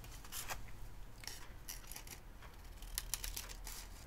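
Scissors snipping through paper doilies to cut them into quarters, a quiet series of short crisp cuts and rustles at close range with no voices.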